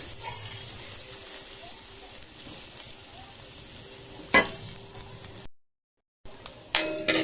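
Garlic and onion browning in a pan for chicken sinigang, a constant high-pitched sizzle running steadily with a couple of brief scraping stirs and a short dropout near the end.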